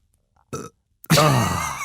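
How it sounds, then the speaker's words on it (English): A man lets out a loud, drawn-out burp after drinking Coca-Cola, preceded by a short throaty gulp, close to the microphone in an otherwise quiet room. "I've got a cola burp coming up."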